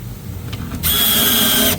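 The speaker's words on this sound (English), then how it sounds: "Using this drill driver, it's nice because it gets into these Craigs really easily without having to use a super long bit." A cordless drill driver whirs up to a steady high-pitched run during a white oak kitchen cabinet install, loud and close, preceded by a moment of low background noise and no speech.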